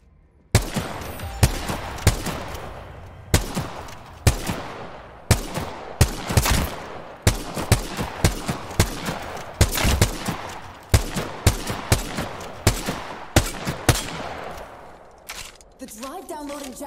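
Gunfire in a shooter video game, a long run of loud, sharp shots fired in irregular bursts and single cracks, spread steadily across the passage with brief pauses between groups.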